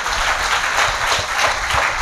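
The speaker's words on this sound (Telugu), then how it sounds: "మీకు అందరికి గట్టిగా చప్పట్లు కొట్టండి." Audience applause at the consecration of St. Francis Xavier church in Dokiparru, a steady close wash of many hands clapping that lasts a couple of seconds with no speech over it.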